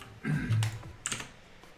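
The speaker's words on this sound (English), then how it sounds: "now you're the one with the loud keyboard" Loud computer keyboard typing while working on a game in Unity: a couple of close, sharp key clacks within a short moment, with quiet room tone between.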